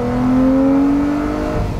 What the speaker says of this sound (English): that angry, naturally aspirated V12 right behind you